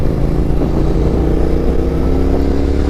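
A Triumph Thruxton twin-cylinder motorcycle engine runs in a smooth, throbbing rumble with a steady pulsing beat, close and continuous throughout.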